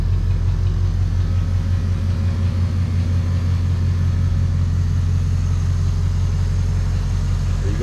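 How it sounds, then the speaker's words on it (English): A 1950 Ford Coupe's engine runs at a steady, smooth idle, a loud, close, continuous low rumble with an even throb and no knocks or ticks, and no voices. "Engine's running smooth."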